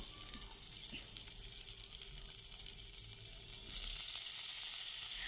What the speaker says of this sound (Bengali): এরপর আমি রসুন ধনে পাতা আর কাঁচা লঙ্কাটা ভেজে নেব